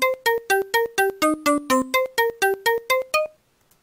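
A short Protracker sample melody of a dozen evenly spaced plucked notes, each attack loud at volume 40 then quickly dropping via volume C commands, ending with a brief decay.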